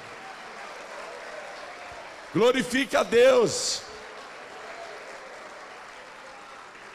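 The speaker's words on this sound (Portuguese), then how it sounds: "Isso, aplaude e dá glória." A church congregation claps in a steady, even wash during a sermon, while a preacher briefly speaks over it midway.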